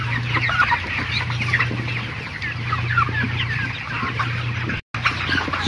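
A shed full of 35-day-old broiler chickens clucks and murmurs in a dense, continuous chorus, close and fairly loud over a steady low fan hum, with one brief dropout near the end.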